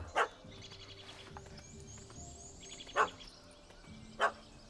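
A dog barks in the video game The Witcher 3, three sharp separate barks spaced a few seconds apart over a quiet ambient background with faint birdsong.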